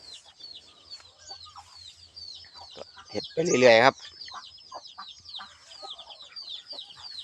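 Chickens on a farm cluck amid a steady stream of high chick peeps, with one brief louder squawking burst midway and a voice speaking briefly.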